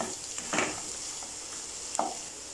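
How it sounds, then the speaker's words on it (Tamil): Beans and vegetables for fried rice are sautéed in a pan: a steady sizzle with two clear scrapes and stirs of a spoon, close and alone without talk. "இப்போ இது எல்லாத்தையும் சேர்த்து நல்லா வதக்கி விட்டுக்குவோம்."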